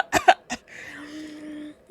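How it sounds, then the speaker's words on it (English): A short cough in two quick bursts followed by a softer third, then a brief trailing vocal sound, close and fairly loud. "I had a little cough."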